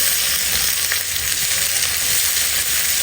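Crushed ginger and garlic frying over a medium flame as they are stirred in a pan, a loud, dense, continuous sizzle with no pauses.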